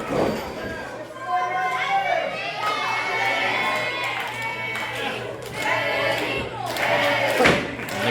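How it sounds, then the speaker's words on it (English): A wrestling show crowd cheers and shouts at moderate volume beneath continuous commentary, with a few thuds from the ring. "crowd getting behind Eddie Thomas as he writhes in pain on the mat"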